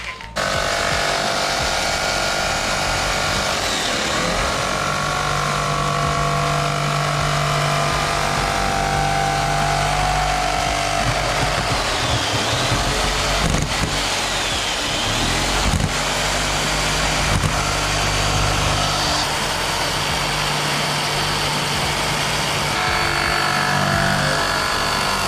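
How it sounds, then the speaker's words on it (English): A Black & Decker power saw cuts through a motorcycle windshield with a loud, continuous whining buzz that holds steady close by for the whole stretch, the pitch wavering slightly as the blade works through the plastic. "We're gonna use a Black & Decker."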